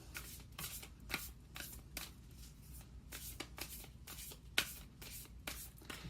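A deck of Moonology oracle cards is shuffled by hand, giving quiet, close riffling bursts in an uneven rhythm with small sharp snaps.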